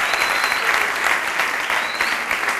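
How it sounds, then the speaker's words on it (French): Studio audience at a televised tribute to a singer applauding loudly, dense sustained clapping filling the whole stretch without a break. "On va l'applaudir très fort."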